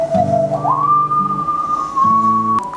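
A person whistles to imitate a sound, a single sustained tone that slides upward and holds steady for over two seconds over low background tones.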